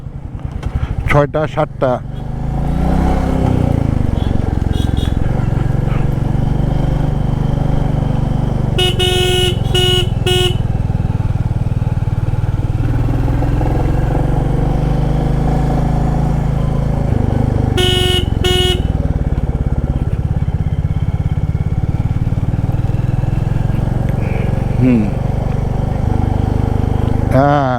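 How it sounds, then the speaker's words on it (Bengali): Several motorcycles pass along a muddy road on the way to Boga Lake, their engines droning close by throughout, while horns beep in short repeated bursts; someone talks and counts over the traffic. "মোটরসাইকেল আসতেছে 2টা 3টা 4টা 5টা"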